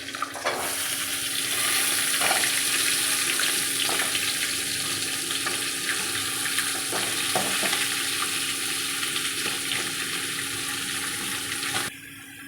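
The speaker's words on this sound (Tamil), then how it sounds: "எல்லா காயும் போட்டு வதக்கிக்கலாம்." Beans, carrot, capsicum and cauliflower sizzle steadily in a hot pan for vegetable kurma, a continuous close frying hiss with occasional stirring scrapes, no voices.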